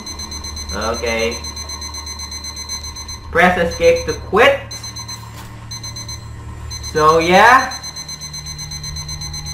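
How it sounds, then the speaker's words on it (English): A video game alarm clock rings continuously as a steady high electronic buzz throughout, loud and close, while someone talks over it in several bursts. "stay and listen to this lovely alarm clock"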